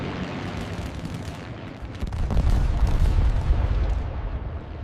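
Anti-aircraft gunfire during the Pearl Harbor attack comes as rapid, dense bursts of shots building into a loud, rumbling barrage, with a continuous booming battle roar underneath.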